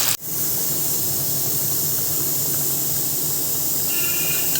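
Chicken frying with masala spices in a pan for chicken masala, a steady loud sizzle and hiss throughout, starting with a sharp onset and continuing without talk.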